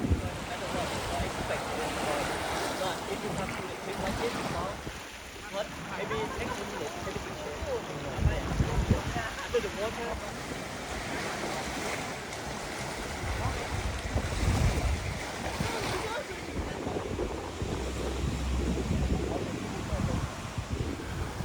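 Waves slosh and wash against a tour boat off Koh Samet, Thailand, with wind buffeting the microphone, while people talk intermittently in the background.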